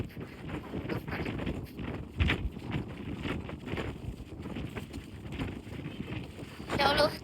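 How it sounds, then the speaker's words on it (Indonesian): Gusty outdoor wind in Mecca buffets the microphone in uneven rushes and thumps, loud and close, while faint voices murmur underneath. "angin gerba-gerbu"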